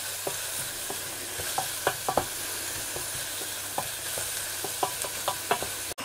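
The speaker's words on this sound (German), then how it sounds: "die große Zwiebel tue ich gleich schon mal richtig schön anbraten" A large onion fries in melted butter in a pan, with a steady soft sizzle broken by scattered clicks and scrapes of stirring, close and fairly quiet, with no talk.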